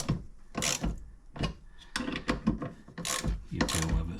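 Ratchet snugging a 13mm bolt on a car air-conditioning pipe cover, a close series of short, uneven clicking strokes over about four seconds, with no one speaking.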